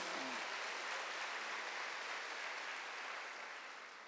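Loud, sustained applause from a large church congregation during a Sunday service fills the space, slowly tapering off toward the end.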